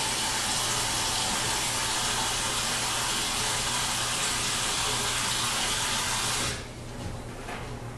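Tap water gushes steadily into a container to thaw a frozen 21-pound turkey, a loud continuous pour that cuts off near the end, leaving a quieter trickle.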